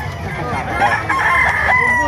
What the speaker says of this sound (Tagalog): Ayan, napakarami manok oh.